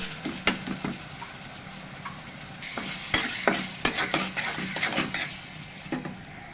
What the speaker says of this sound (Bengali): এবার হলুদ গুঁড়া দিয়ে আরও একটু ভালোভাবে নেড়ে চেড়ে নিলাম